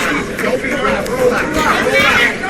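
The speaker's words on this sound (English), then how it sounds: "How about this crowd here?" A boxing arena crowd in Miami, Oklahoma hums with chatter and murmuring during a professional fight, a steady babble of many voices with a commentator speaking over it.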